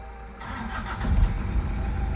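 A Toyota Hilux pick-up with a freshly rebuilt engine starts up and settles into a steady, close, low rumbling run, with no talking over it.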